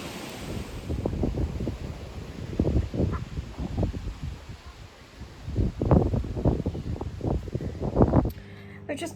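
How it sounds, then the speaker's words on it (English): Gusty wind buffets the microphone outdoors in the Lake District in rough, roaring bursts, with people talking underneath at times. "It's so windy."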